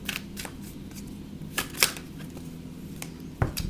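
A deck of tarot cards being shuffled in quick riffling bursts, soft and close, with brief sharper snaps between quieter stretches.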